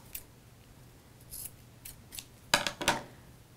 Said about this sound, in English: I will trim it so that it's even with the bottom and just even up those ends down there